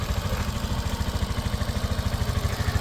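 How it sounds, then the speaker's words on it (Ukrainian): A Suzuki Address 125S scooter engine idling steadily with a soft, even putter, low and close, no voices. "По мотору ніяких зауважень немає, тихенько працює."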